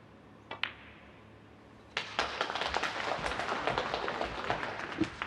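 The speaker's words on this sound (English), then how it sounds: "a little burst of applause from the" A snooker audience breaks into a short burst of applause, with scattered claps building into dense, moderately loud clapping after a couple of isolated taps and a quiet pause.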